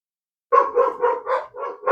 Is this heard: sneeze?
no